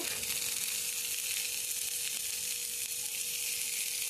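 Paneer cubes fry with capsicum and carrot in a pan, a steady, fairly quiet sizzle holding level throughout.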